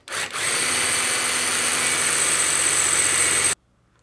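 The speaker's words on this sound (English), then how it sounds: "We're now going to use a 6mm drill just to remove the head." A power drill with a 6mm bit whines at a steady high pitch for about three seconds, drilling off a rivet head on a Mercedes wiper linkage, close and loud, then stops abruptly into silence.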